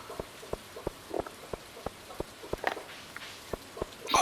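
Rain falls in the Stardew Valley farming game, with evenly spaced soft taps and patters over a quiet hiss, a few drops landing slightly louder near the end.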